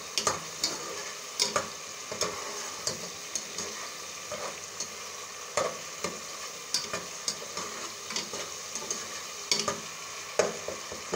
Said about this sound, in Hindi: जब ये इसका मसाला भून जाएगा अच्छी तरीके से